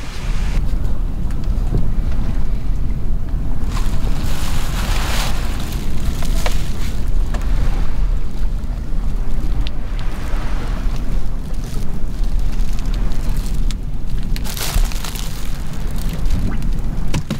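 A fishing boat's engine runs steadily at sea off the North Jakarta coast, a continuous low rumble mixed with buffeting wind and wave wash, loud and close throughout with no talk.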